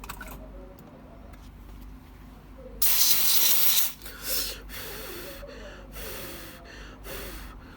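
Freeze spray blasts onto an iPhone 7 Plus logic board that has a short, a loud close hiss lasting about a second, then a few shorter spurts amid quiet room noise.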